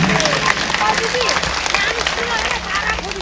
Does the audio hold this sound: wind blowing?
no